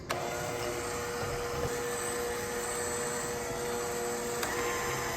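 Milk and vanilla are mixed into peanut butter chocolate chip cookie batter, with a steady, even whirring hum that holds without a break from start to finish.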